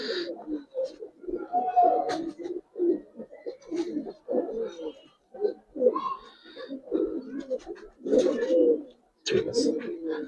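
Giribaz coloring pigeons in a loft cooing repeatedly, soft throaty coos in bursts with short pauses, close and fairly quiet, with some wing rustles and no speech.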